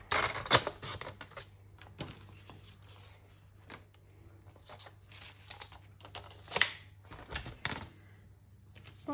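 A4 cardstock is cut to size for a craft album, heard as close, dry clicks, rasps and crinkles at an uneven pace.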